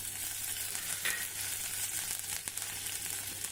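Green chilli pieces hit a hot ghee tempering of spluttered mustard seeds and cumin, a faint but continuous soft sizzle with a few tiny pops, with no voices.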